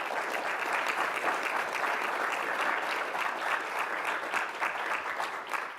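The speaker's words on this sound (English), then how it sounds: "let's give our panelists a round of applause" Audience applause for conference panelists at the All In 2024 gathering on college completion: dense, steady clapping from a sizable crowd that holds evenly for several seconds and only begins to thin toward the end.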